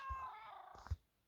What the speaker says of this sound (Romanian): Cred că pisicile sunt fix deasupra mea.